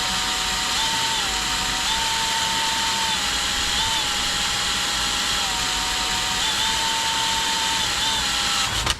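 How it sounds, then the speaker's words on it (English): A power drill runs continuously at close range, a steady high whine with slight pitch dips, over a broad mechanical hiss, then cuts off at the end. "Now let's see how dull this drill bit is."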